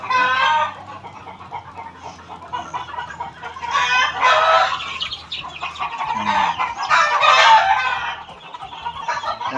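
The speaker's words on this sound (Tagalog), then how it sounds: "Ito yung mga sisiw ko." Raptor crossed with White Kelso gamefowl chicks, a group of about thirty, peep and cluck continuously at close range, with louder bursts of chirping rising and falling throughout.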